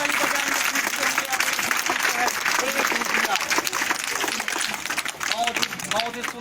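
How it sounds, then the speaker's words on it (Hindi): Applause from students in a classroom quiz styled like a TV game show, steady crowd clapping mixed with voices talking over it throughout. "जोरदार ताली बजाएंगे इसके लिए।"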